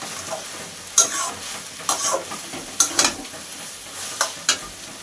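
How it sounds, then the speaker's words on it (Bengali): A paste of white mustard and charmagaj is stirred in a pan for a fish-head red amaranth chorchori, a soft sizzle broken by several sharp utensil scrapes at irregular intervals. "তো দিয়ে এবার এটাকে নাড়াচাড়া করে নেব"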